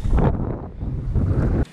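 Strong wind buffets the microphone in loud, rumbling gusts, then cuts off abruptly near the end.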